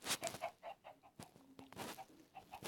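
Minecraft chickens cluck repeatedly in short, steady bursts with a soft game-like quality, occasional squawks mixed in, at moderate volume.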